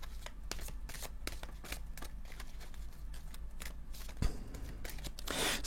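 Tarot cards shuffled by hand in a steady run of crisp, rapid riffling flutters, close and fairly loud, with a brief sharper knock near the end and no talking.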